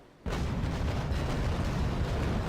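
A full cannon broadside fires from a Bellona ship of the line in the naval combat game Naval Action, bursting in suddenly after near silence and rolling on as a dense, sustained boom.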